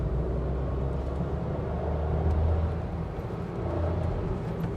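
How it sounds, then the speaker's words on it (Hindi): A small Maruti car engine hums and rumbles steadily from inside the cabin, rising slightly as it accelerates, with no talking. "आवाज आप सुन सकते हैं अगर एक्सीलेट करते हैं।"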